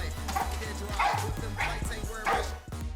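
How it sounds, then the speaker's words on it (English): Pit bull barking excitedly and repeatedly at close range beside a treadmill, quick rhythmic yips and woofs with an engine-like hum underneath. "This pit bull named Duke gets very excited to work out and barks at his owner"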